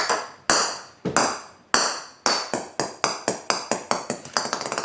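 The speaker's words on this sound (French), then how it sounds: "C'est mon chat qui joue avec une boule de Noël" A series of bright ringing taps and pings, spaced at first then quickening into rapid repeated clinks, as a cat bats around a Christmas bauble.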